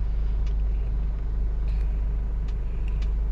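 A car engine idles low and steady while the car reverses into a parking space, a continuous close rumble with faint traffic-like hiss and no voices.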